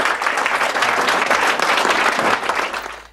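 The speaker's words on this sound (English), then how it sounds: "would you give a round of applause to Mr." An audience breaks into a burst of loud, dense applause for a performer, steady clapping that holds for a few seconds before tapering off.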